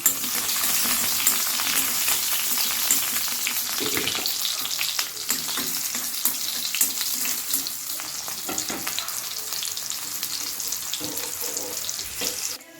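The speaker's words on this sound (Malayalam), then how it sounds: "ഒരു മൂന്നാലഞ്ച് കൊച്ചുള്ളി ഇട്ട് ഒന്ന് ചൂടായി വരട്ടെ" A few small shallots frying in hot oil, a close, steady sizzling crackle lasting the whole stretch with faint stirring noises, no voices.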